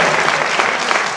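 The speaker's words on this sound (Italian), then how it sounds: "un applauso" An audience at a culture gala applauds a first-place class, a brief stretch of dense, steady clapping from a crowd.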